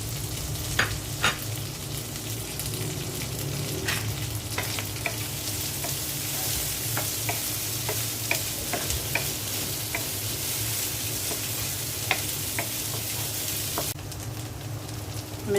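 Beef pieces fry in a pan alongside spiced egg for a noodle dish, a continuous close sizzle broken by regular scraping stirs and light clicks of a spatula, with no voices.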